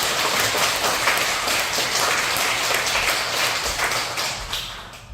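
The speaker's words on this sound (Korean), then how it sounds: "박수 한번 이렇게 박수 한번 칩니다." A Salvation Army church congregation claps together during Sunday worship, a loud, dense burst of clapping that holds steady and then eases slightly toward the end.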